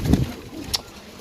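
Pigeons kept for sale in an Eid offer coo briefly near the mic, a low burst at the start followed by quieter murmuring and a short sharp rustle.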